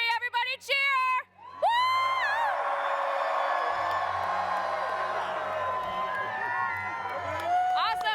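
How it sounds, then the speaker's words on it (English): Convention audience at Comic Con erupts into loud cheering and whooping after a short countdown, a dense crowd roar with shouts and yells sustained for several seconds, with a voice briefly heard before it. "1, 2, 3, everybody cheer!"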